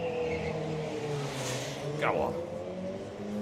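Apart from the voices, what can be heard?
Peugeot street car racing past on track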